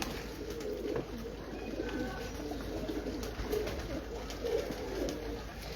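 Breeder pigeons on a Lahore rooftop coo softly in low, rolling murmurs over a steady background hiss, faint and somewhat distant.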